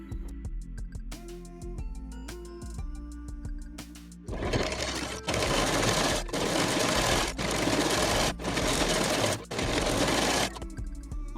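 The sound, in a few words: sewing machine stitching a patchwork saree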